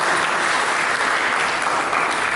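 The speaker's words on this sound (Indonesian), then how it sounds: "Mari kita berikan tepuk tangan yang mulia bagi Tuhan Yesus" A church congregation claps together in a dense, sustained wash of applause, loud and even throughout with no voices above it.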